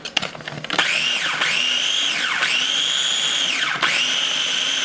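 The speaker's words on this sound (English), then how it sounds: "So now we're gonna just roughly chop it in the blender," A kitchen blender chops cooked spinach in short bursts. Its motor whines up to a high steady pitch, dips briefly between pulses and spins back up, loud and close, with no talk.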